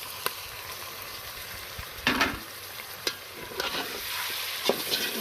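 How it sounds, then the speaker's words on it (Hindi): Chicken frying in a pan with added garlic, ginger and green chili paste for Pakistani-style pulao, a continuous sizzle broken by a few clinks and scrapes of stirring, near and without voices. "इसे हम थोड़ी देर के लिए ना अच्छे से भून लेंगे।"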